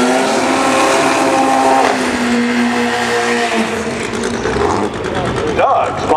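Top fuel dragster roaring down a drag strip in an elimination final, a loud sustained engine roar with shifting pitch heard under a track announcer's commentary.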